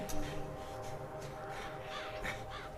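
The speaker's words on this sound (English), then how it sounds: "It was full of birds." Crows cawing in The 39 Steps video game: several harsh caws over a steady, quiet background, with the clearest calls coming near the end.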